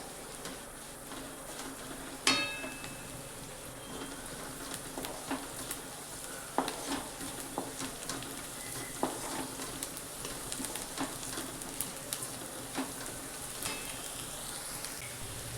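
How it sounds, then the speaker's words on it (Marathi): Onion softening in a pan with a little turmeric for kanda pohe, giving a steady, moderate sizzle and crackle with scattered sharper pops and stirring clicks, no voices. "बघा आता कांदा छान भाजलाय."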